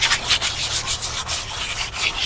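Steady scratchy rubbing of sandpaper, a continuous rasping texture with rhythmic back-and-forth strokes, close and fairly loud, no voices.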